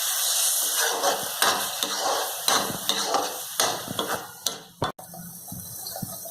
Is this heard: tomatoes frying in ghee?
yes